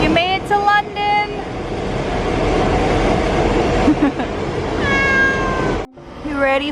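A passing train rumbles steadily at a station in England, while a cat meows repeatedly close by and a person talks over the noise.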